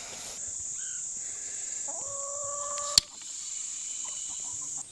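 Poultry call outdoors: a couple of clucking, gobble-like notes over steady background hiss, with a sharp click partway through.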